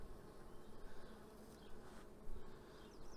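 Carniolan honeybees swarm over a frame at the hive, making a dense, continuous buzz. The soft, steady drone comes up close and fills the whole stretch, with small swells and no voices.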